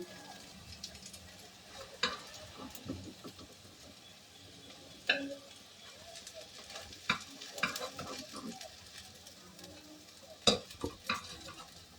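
Fig koftas fry in homemade ghee with a faint, steady sizzle. Occasional sharp clinks of a utensil against the pan punctuate the quiet bubbling.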